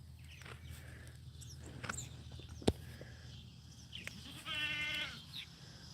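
Goats bleat in a chicken-farming video game, several short calls spread across the scene with a louder harmonic bleat near the end, over steady low background hum and light footstep-like clicks.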